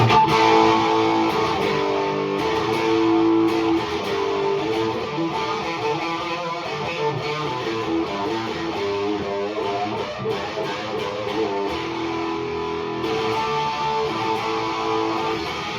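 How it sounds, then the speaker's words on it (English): A thick, gritty fuzz-distorted electric guitar plays continuously, dense and saturated throughout, with no voices. "a good fuzz pedal can really add some thickness and grit"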